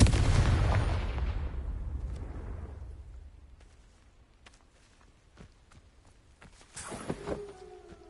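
A Confringo fire spell from Hogwarts Legacy bursts as a loud, broad blast in the opening seconds, then rumbles and decays into quieter scattered game effects, with a fresh crackling burst and tonal ring near the end.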